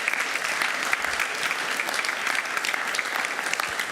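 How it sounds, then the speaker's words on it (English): An audience at a school district board meeting applauds students, a steady, full round of clapping from a room full of people that holds evenly from start to finish. "Let's give those students a round of applause."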